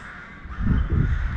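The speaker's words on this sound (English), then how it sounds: "Wow, so many crows here. Sounds so cool." Many crows in Bremen, Germany caw over one another, the harsh calls growing louder and denser partway through and continuing steadily to the end.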